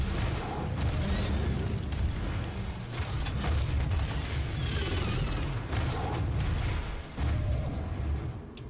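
Heavy rocket launcher blasts in the shooter game Doom, a run of deep booming explosions one after another with rumbling low-end and debris crackle, loud and close, with brief gaps between impacts.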